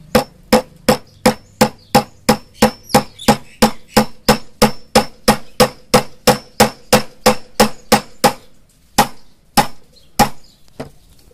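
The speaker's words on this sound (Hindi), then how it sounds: "चलिए गाइस हम यहाँ से इसे आपको ठोक के दिखाते हैं।" Multi-tool hammer driving an old nail, about twenty sharp metallic blows in a fast, even rhythm, then a short pause and a few slower strikes, loud and close with no talk.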